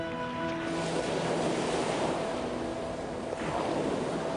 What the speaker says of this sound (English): And the waters of the Atlantic Ocean flood in.